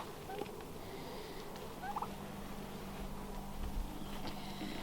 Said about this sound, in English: These are all my beautiful little birds that are asking to be fed once again.